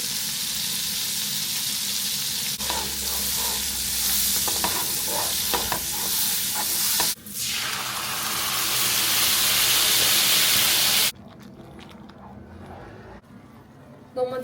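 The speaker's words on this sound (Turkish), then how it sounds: "önce şöyle bir tereyağı kızartacağım sarımsaklarla birlikte" Loud, steady sizzling of thinly sliced garlic frying in butter in a pan, with occasional stirring clatter, ending abruptly into quieter kitchen noise.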